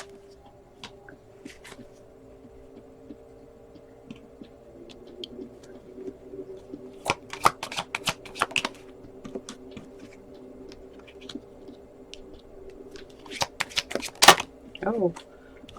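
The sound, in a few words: shuffling and drawing tarot cards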